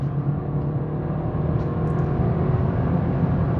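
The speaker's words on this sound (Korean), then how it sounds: "이제 패턴 노이즈 150, 60까지 올리면서 타이어 소음 체크 한번 해보겠습니다." Steady, loud road roar from Michelin CrossClimate 3 all-weather tires at about 150 km/h, a dense continuous rumble with no talking over it.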